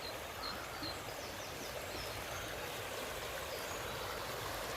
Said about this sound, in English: I'm just by the river again